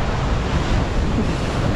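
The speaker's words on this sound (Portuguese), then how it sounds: "Aí, água correndo aqui em cima, ó." Sea water at Boa Viagem beach in Recife rushes over the rocks and pavement as the sea advances, a loud, continuous roar of surging water close by with no voices.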